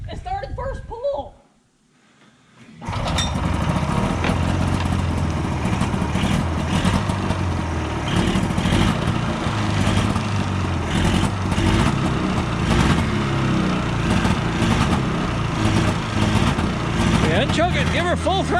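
A 1978 Polaris Cobra 440 snowmobile, abandoned for over 20 years, fires up after a pull start and keeps running with a loud, steady two-stroke drone close by, with voices talking over it.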